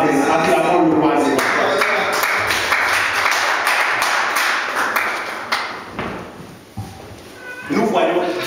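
A church congregation clapping and acclaiming, loud voices raised together over scattered claps, thinning out briefly near the end before swelling again.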